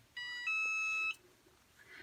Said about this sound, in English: Set a timer for 12 seconds.